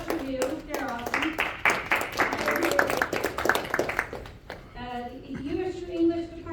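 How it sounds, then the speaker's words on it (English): An audience at a summer poetry open mic claps for a sponsor in a dense burst of several seconds that stops abruptly, followed by a voice speaking. "You clap for Sugar House Review."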